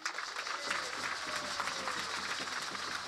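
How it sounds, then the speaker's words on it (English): A crowd at an outdoor political rally in Lethem claps continuously, a steady wash of applause heard from some distance at moderate level. "Let us give him a round of applause."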